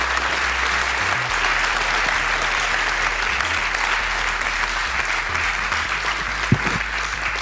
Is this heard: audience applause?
yes